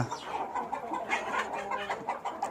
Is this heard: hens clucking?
yes